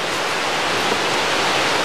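Water poured steadily into a cementitious mix for a concrete countertop, a continuous close, loud rushing wash with no break over about two seconds.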